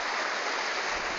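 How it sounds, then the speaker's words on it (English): Yad Waterfall in Fife, Scotland, running with heavy flow after extreme weather, a dense, continuous rushing roar of falling water, close and loud, with no other sounds. "I'm at Yad Waterfall, which at the best of times is a moderate trickle, but there's a hell of a lot of water coming over."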